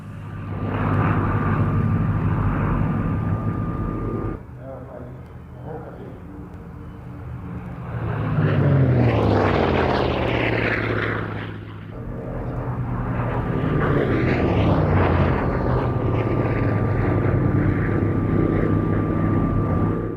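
A vintage piston fighter aircraft, Old Crow, flies past at a Duxford airshow, its propeller engine droning loud and near, swelling into two roaring passes with a rising and falling pitch sweep, then settling into a steady hum.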